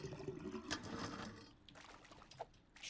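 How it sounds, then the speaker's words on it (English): Water flowing and trickling through drains in the video game DrainSim, a faint, steady watery wash that thins out partway through, with a few soft splashy blips near the end. "Water is still flowing that way"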